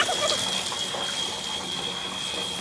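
Tap water runs in a steady, continuous rush at a village home, moderately loud and unbroken, with no voices.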